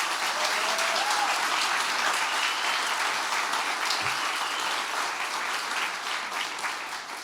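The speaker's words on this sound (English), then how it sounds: "Let's all give Harold a round of applause, too." A press-conference audience for a charity golf tournament applauds Harold, a steady, fairly loud round of clapping that carries on for several seconds and eases off slightly at the end.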